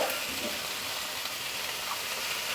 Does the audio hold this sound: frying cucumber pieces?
yes